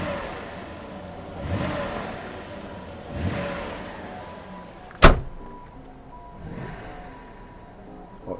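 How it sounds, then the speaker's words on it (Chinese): A Mercedes-Benz W126 420 with its engine rebuilt, heard from outside with the door open, idles and revs in several gentle rising surges. A sharp door-like clunk sounds midway. "我们有听到这引擎反应很快速。"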